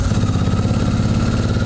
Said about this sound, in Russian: А пока мотоцикл будет греться